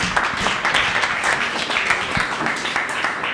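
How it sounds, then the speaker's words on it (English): An audience claps at a maker-community lightning talks evening, a dense, steady burst of applause that stays loud for the full few seconds with no speech on top. "Big round of applause for Jesse"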